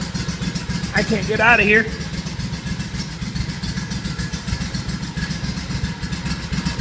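An engine idles steadily right after a cold start in roughly 10-degree weather, a constant low rumble close by throughout, with a person speaking briefly over it near the start.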